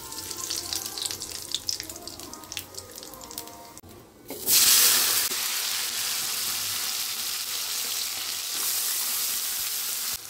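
Black cumin seeds go into hot oil in a wok for a Bengali fish curry. After some quiet clatter, a loud hiss erupts abruptly about halfway through, then settles into a steady close sizzle.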